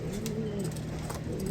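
A pigeon or dove coos softly and steadily, close by, for a brief moment with faint background noise.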